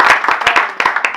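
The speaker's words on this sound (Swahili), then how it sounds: "Situpigie Yesu makofi" A small fellowship gathering claps for Jesus, a short burst of lively group handclapping with distinct sharp claps standing out, close and fairly loud.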